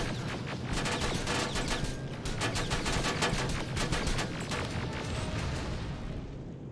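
Automated turret in Terminator: Resistance lets loose a steady, loud stream of rapid gunfire, dense overlapping shots running without pause from start to finish.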